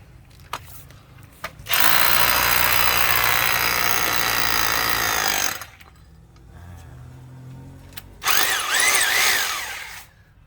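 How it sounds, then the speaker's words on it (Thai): A 1800-watt rotary hammer drill bores into concrete, loud and close, in two bursts: a long grinding run, a quieter pause with faint motor noise, then a shorter second burst. "มาสาธิตเจาะปูนนะครับนี่เจาะปูนต้องปรับตรงไหนก่อน"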